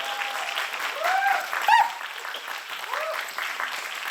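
Applause from actors and production crew at a TV drama press conference as the director is introduced, moderate and steady, with scattered vocal calls and a few cheers rising over the clapping.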